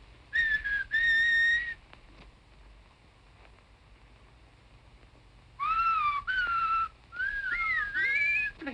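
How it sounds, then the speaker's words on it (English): A man whistles a short tune in clear tonal phrases, two bursts, a pause, then several more, close and prominent over a faint hiss, in a 1929 film. "So I whistled back,"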